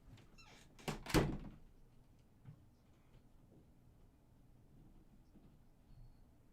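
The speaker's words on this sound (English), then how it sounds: "I think I've accidentally put the lock on the door." A bedroom door fitted with a chain lock is rattled and pushed: a sharp cluster of clanks and a thunk, then faint scattered knocks in a quiet room.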